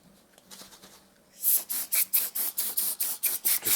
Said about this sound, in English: So I've got some lubricating spray.